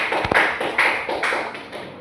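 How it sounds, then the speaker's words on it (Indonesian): A small classroom group gives a student a brief round of applause, several sharp claps close by, quick and sparse. "beri tepuk tangan untuk temannya"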